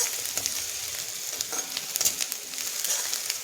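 Onions fry in a pan until they turn reddish, giving a steady, close sizzle with crackles and occasional sharp spatters throughout; no one speaks.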